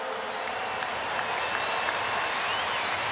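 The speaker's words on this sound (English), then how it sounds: "A warm round of applause." A stadium crowd at the 2015 NRL rugby league grand final between the Broncos and Cowboys claps and cheers in a dense, continuous wash of applause, with a faint announcer voice over the top.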